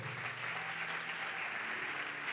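A church congregation applauding and cheering during a healing service, a steady, dense wash of clapping that carries on evenly through the whole moment.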